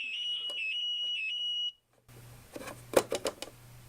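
A small electronic ringtone chirps in quick tonal bursts, then cuts off; after a pause come faint handling clicks and rustles close by.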